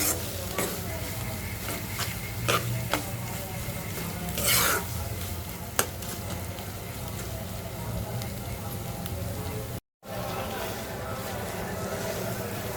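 Taro leaves fry in a pan with a constant dense sizzle, while a spatula stirs and scrapes now and then. A voice speaks softly underneath.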